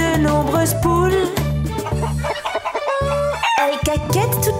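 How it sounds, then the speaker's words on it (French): Hens on a farm cluck in short repeated bursts, with a rooster crowing among them; the sound is close and busy, set over a children's song with music. "Elles caquettent toute la journée dans la drôle de ferme"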